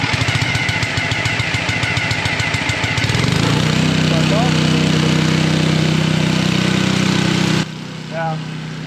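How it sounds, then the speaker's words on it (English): A small petrol-engine air compressor fires up, its rapid chugging settling into a steady loud running drone that cuts off abruptly near the end, followed by quieter sounds. "So let's fire this up and I'll show you how good this air compressor is."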